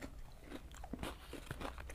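Crunchy ayam geprek fried chicken from Jember is bitten and chewed up close, giving a quick run of faint, crisp crackles and crunches.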